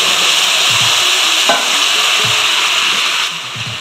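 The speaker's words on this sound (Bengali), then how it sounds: "দেখো এদিকে আমার তেলটা গরম হয়ে গেছে। এবার আমি ওই পালং শাকের পেস্টটা দিয়ে দিলাম।" Spinach paste for palak kofta curry sizzles steadily in hot oil, a loud, close, continuous frying hiss with a few soft stirring scrapes and no talking.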